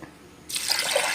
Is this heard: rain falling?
no